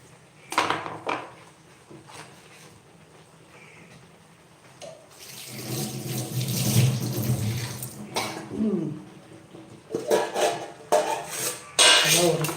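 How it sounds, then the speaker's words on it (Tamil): Tap water runs over chopped coriander in a kitchen sink, splashing in bursts with rustling and handling sounds between, close and moderately loud, with clinks of utensils. "கட் பண்ணிக்கிட்டு நல்லா வாஷ் பண்ணிட்டு வந்துடுறேன்"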